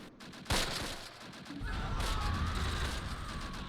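Artillery fire in Close Combat: a sharp blast followed by a sustained rumble of shelling with distant crackling, close and steady in the game's wartime soundscape.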